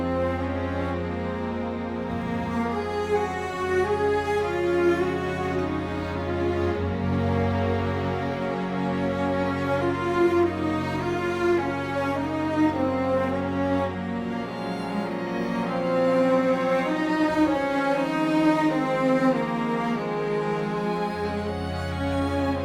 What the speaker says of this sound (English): We're being joined by some Cinematic Studio solo strings and the other instance of Performance Samples